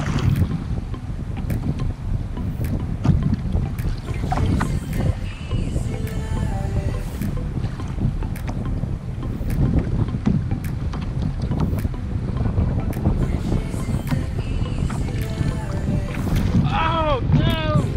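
Steady wind rushes and buffets the microphone on open water while kayak fishing for speckled trout at Laguna Shores, a constant loud roar with faint splashes and creaks throughout.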